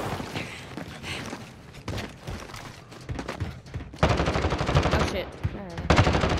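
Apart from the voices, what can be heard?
gunfire in a video game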